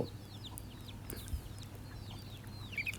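Native country chickens cluck and chirp softly over a steady low hum on a farm, with scattered short calls throughout and no talking.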